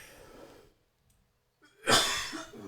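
A single sharp cough bursts out close by after a brief silence, loud and breathy, with some quieter rustling before it.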